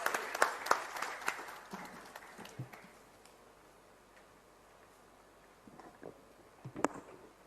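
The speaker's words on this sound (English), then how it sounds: "Ladies and gentlemen, huge round of applause for Dr." A healthcare summit audience gives scattered applause for a speaker. Claps ring out sharply at first, then quickly thin to sparse, faint taps and a near-quiet room, with a few isolated claps near the end.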